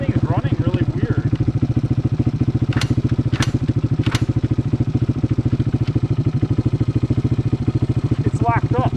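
A Honda 200X or Yamaha Blaster ATV engine runs rough, a loud, close, pulsing putter with an uneven beat that keeps going throughout, while people talk over it.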